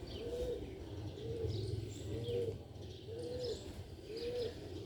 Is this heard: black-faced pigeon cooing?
yes